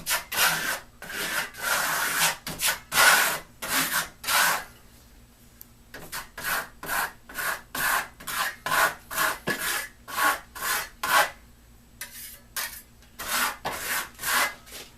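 Steel trowel sweeping Venetian plaster (Firenzecolor Dune Africa, two-tone finish) across a wall in circular motions, giving a steady run of close, rhythmic scraping rubs with a short pause midway and no talking.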